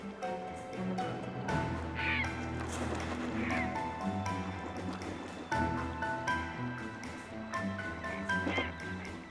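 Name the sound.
herons fighting over the last fish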